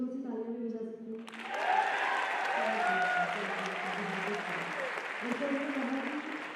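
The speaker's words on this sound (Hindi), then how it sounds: "क्या हम लोग थोड़ी सी तालियां भी बजा सकते हैं?" A crowd breaks into sustained applause after a brief spoken line, clapping steadily for several seconds.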